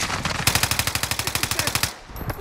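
Rapid automatic gunfire in the Modern Warfare video game, Rebirth Island mode: a loud, steady stream of about twenty close shots for roughly two seconds, then a brief lull with faint game sounds.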